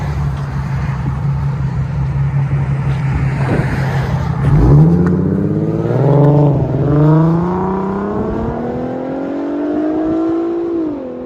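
A Nissan 370Z with a muffler-delete exhaust idles with a deep burble, then revs up in several rising and falling pulls, loud and raspy at close range, before settling into a lower, steady drone.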